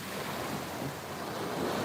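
Ocean surf washing onto a beach, a steady broad roar of breaking waves close by with some wind buffeting the microphone, no voices.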